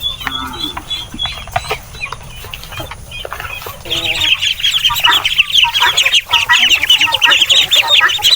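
Farm chickens cluck and chatter at afternoon feeding time, a busy flock close by whose calls thicken and grow louder in the second half.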